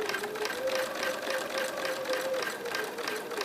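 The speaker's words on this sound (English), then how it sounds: "we just keep sewing around on the lines till we get every line stitched" A sewing machine runs steadily while stitching a quilt along marked lines, its fast even needle clatter and motor whine continuous and close throughout.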